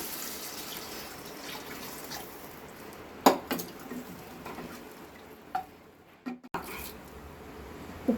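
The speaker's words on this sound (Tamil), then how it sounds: "ஊற்றிட்டு அப்படியே ஒரு சொம்பு தண்ணி ஊற்றிக்கலாம்." Water poured from a pot into a cooking pot for mudakkathaan keerai (greens) soup makes a steady rushing splash with a few sharp clinks of metal, no voices.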